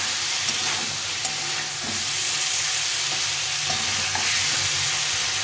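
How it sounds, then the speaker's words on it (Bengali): Cauliflower and potato are sautéed in a pan for a long time. A steady, loud hiss of frying continues throughout, with occasional soft scrapes of a spatula close by. "এটা ভালো করে কষিয়ে নিলাম ফুলকপি আর আলুটা, তো অনেকক্ষণ ধরে এটাকে কষিয়ে নিতে হবে।"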